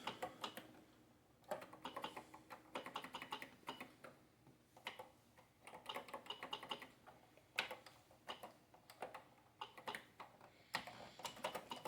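Steady typing on an Atari 8-bit computer keyboard, keys clicking in quick uneven bursts with short pauses, close and fairly quiet.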